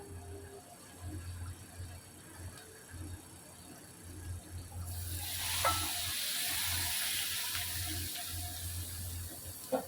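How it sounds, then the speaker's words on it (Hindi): A hot tadka of red chillies and curry leaves hits besan karhi, bursting into a bright sizzle halfway through after a quieter stretch of low stirring and background hum. "तड़का रेडी है, कड़ी में डाल देंगे।"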